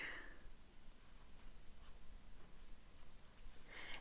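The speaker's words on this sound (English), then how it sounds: "So we're going to write that in here." Pen writing by hand in a cash budget booklet, a faint, close scratching that runs continuously in a quiet room.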